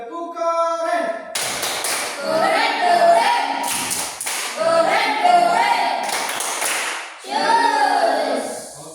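Children performing the 'tepuk keren' clapping chant in a classroom, rhythmic group claps with chanted voices in several bursts, fairly loud and close.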